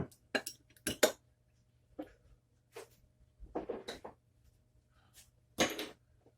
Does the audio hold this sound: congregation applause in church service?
no